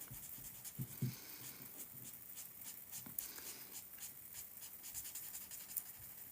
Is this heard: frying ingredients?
no